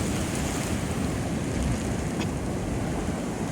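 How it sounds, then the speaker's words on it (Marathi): Sea waves break and roll onto the Konkan shore at high tide, a continuous loud roar of surf mixed with wind buffeting the microphone, with no talking. "बघू शकतात कशा प्रकारे म्हणजे उलटी सुलटी लाटा येत ती"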